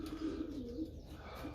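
Racing pigeons coo in a loft of young birds, a low warbling burble that rolls on steadily and close for the whole moment, with no talking.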